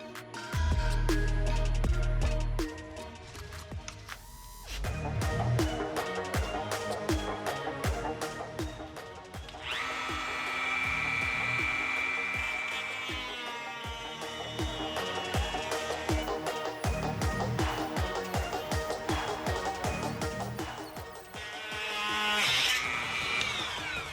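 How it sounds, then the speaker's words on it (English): Dremel rotary tool cutting a hole for brake cooling on an STI, its high whine starting and stopping in bursts with grinding rasps as it bites into the material, close and fairly loud. "Let's go Dremel."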